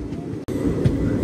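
The Narsapur Dharmavaram Express rolls into Bhimavaram Town station, a short burst of close rumbling with a couple of wheel knocks, heard from onboard.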